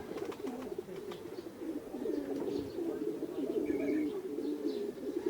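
Racing pigeons arriving at their loft during summer young-bird training coo steadily in a low, rolling murmur, several birds overlapping near the listener with a few faint chirps above.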